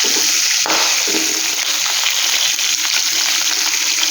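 Chicken pieces frying in oil in a wok for mandi biryani, a loud, dense, continuous hiss of sizzling with a few faint knocks, close and steady with no talk.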